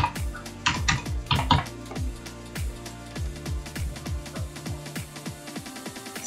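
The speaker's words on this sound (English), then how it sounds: "Let's type in the code." Fingers tapping out a verification code on a phone or keypad, a quick run of crisp clicks that begins irregular and settles into a steady, evenly spaced series, close and clear.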